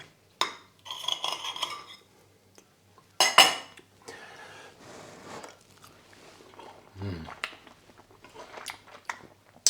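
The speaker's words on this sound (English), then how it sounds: "I'm going to break my egg to give it a proper try." Metal cutlery clinks against a plate while breaking an egg on a gammon dish, a few sharp scrapes and taps spaced apart, close and quiet, with a brief low thud and no talk.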